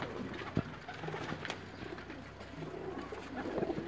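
A Sialkoti pigeon coos softly and fairly close against a noisy outdoor background, with a few brief knocks and a low, steady hum.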